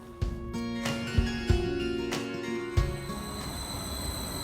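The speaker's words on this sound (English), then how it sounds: "It's our train." Rumbling train noise with squeals and clanks of rail wheels, steady and fairly close, with sharp metallic transients over a continuous rolling din.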